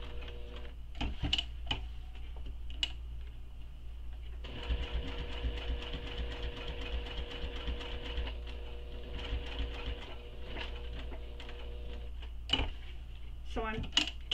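A sewing machine stitches a fabric wristlet in bursts, with a long steady run of rapid mechanical clatter in the middle and shorter runs and clicks around it, close and fairly quiet.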